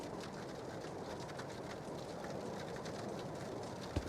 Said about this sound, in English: It sounds like it's rain.